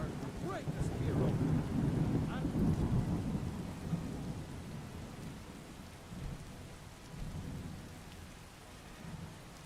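A thunderstorm in a modded Skyrim game: deep rolling thunder over heavy, constant rain, loudest at the start and then easing into softer rumbles and steady downpour.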